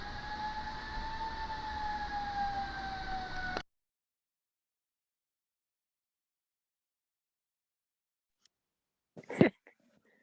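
An ambulance siren passing by, heard through a video call: a steady wailing tone that slowly falls in pitch for a few seconds, then cuts off abruptly, followed by silence and a brief rustling knock.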